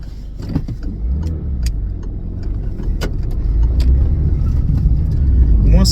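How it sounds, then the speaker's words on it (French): A car approaches along a road outdoors and passes by, its engine and tire rumble swelling steadily louder toward the end, with faint rustling and clicks nearby. "Voiture qui arrive."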